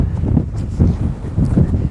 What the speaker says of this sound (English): getting a little bit windy again